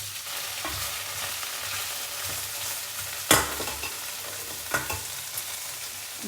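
Veal caramelizing slowly in a pan over gentle heat, a steady low sizzle running throughout with a sharp utensil clatter midway and a few softer knocks later on.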